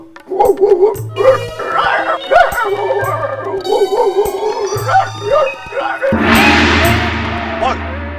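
A dog barks repeatedly at close range, sharp barks mixed with yips and whimpers, ending in a louder, noisier burst.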